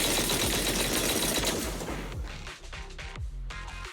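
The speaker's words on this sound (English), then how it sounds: "That was the sound of a heavy cannon?" Rapid heavy cannon fire and booming blasts in the video game Zenless Zone Zero rattle continuously, dense and loud at first, then thinning into separate thuds and impacts.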